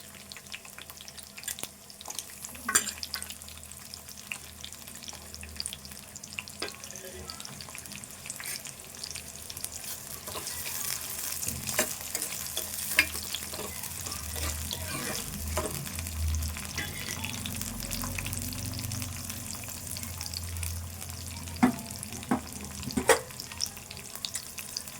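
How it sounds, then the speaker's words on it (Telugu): Onions fry in a pan and are stirred now and then, giving a soft, steady sizzle with scattered scraping and clinks, quiet and close, and no talking. "ఉల్లిపాయ వేసుకుందాము."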